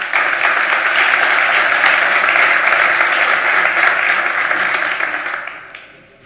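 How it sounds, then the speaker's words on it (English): Steady, full applause from a conference audience welcoming a speaker to a talk on RESTful API practices, continuous dense clapping that fades away near the end. "Let's give her a big applause."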